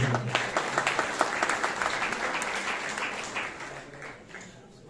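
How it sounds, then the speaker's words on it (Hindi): Audience applause at a Bhagavad Gita talk, a dense burst of clapping from a crowd that holds steady for several seconds and then gradually fades out. "ताली बजाइए"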